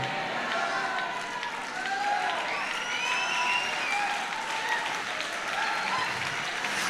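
A church congregation claps together during a sermon, producing a sustained, even wash of applause that continues for several seconds, with voices rising over it.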